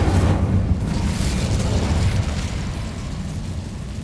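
A Bombarda spell blast in Hogwarts Legacy on PS5 lands as a deep, heavy boom whose rumbling roar fades slowly over several seconds.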